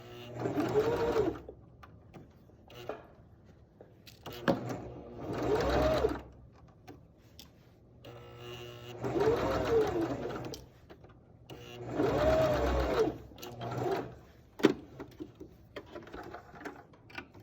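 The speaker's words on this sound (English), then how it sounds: "I'm gonna sew at 1/4 inch and take the pins out as I go." A sewing machine stitching a quarter-inch seam along the pleats of a fabric face mask runs in four separate bursts of whirring with brief quiet pauses between them, close and clear.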